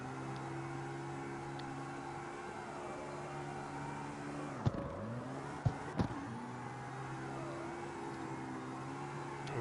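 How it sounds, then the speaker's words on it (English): A BMW engine drones steadily while the car drifts, its tone dipping and swelling as revs shift, with a few sharp clicks and knocks in the middle. "It's a BMW, boy."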